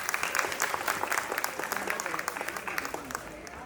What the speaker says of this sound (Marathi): तर पुन्हा एकदा या छोट्या शाळेसाठी टाळ्या होऊन जाऊ दे